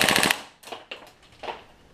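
An airsoft rifle fitted with an RA Tech aluminum nozzle, flute and valve kit fires a short, fast full-auto burst, loud and close, followed by a few sparse clicks and knocks.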